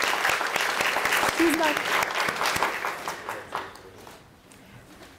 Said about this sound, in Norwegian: Vi tar en applaus til